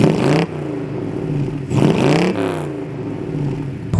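1935 Ford coupe hot rod with a Chevy 350 cubic inch V8 and automatic transmission, revving in repeated short bursts: three loud rising blips separated by a lumpy, rumbling idle, heard up close.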